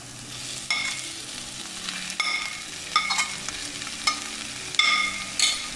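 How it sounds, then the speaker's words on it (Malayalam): Crushed chicken filling stirred in a hot pan for carrot fry, with a constant sizzle broken by repeated scraping and clattering strokes at an irregular pace, close and fairly loud, with no voices. "ഇത് നമ്മൾ നന്നായി ഒന്ന് എല്ലാവർക്കും മിക്സ് ആവുന്ന രീതിയിൽ ഒന്ന് ഇളക്കി കൊടുക്കാം"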